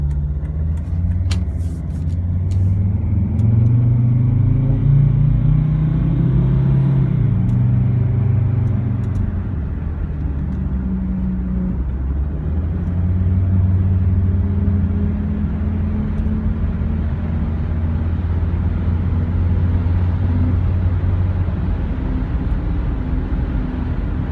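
Steady low engine rumble of a Jeep Grand Cherokee driving, with road noise holding constant throughout and no voices.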